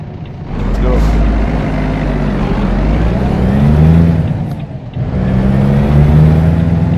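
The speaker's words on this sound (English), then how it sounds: "Nice engine noise on the 12 wheels thing" A heavy truck engine in the game American Truck Simulator drones and revs in two long surges, loud and steady, with a low rumbling tone.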